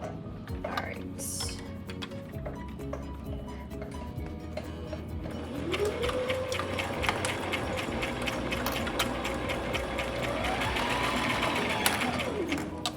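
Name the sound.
sewing machine sewing a straight seam down fabric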